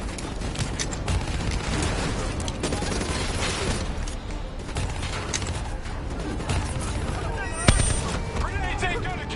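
A swarm launcher and heavy gunfire in a Black Ops 3 campaign battle, dense continuous shooting and mechanical clatter with a sharp loud blast near the end, and voices shouting over the combat.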